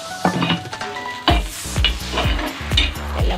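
Ginger and garlic roasting in a pan for dal mushroom, a close frying hiss punctuated by repeated rhythmic knocks and scrapes of a spoon against the pan, with no talking.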